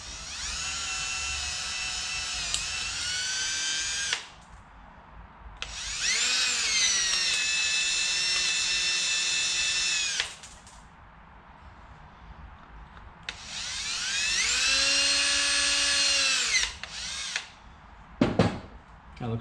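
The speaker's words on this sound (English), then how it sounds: "we want to drill it out to the tap drill size of the heel coil" Power drill boring out a Kawasaki KFX 450R engine case to tap-drill size for a Heli-Coil thread insert, three sustained whining bursts of several seconds each separated by pauses, close and loud with no talking.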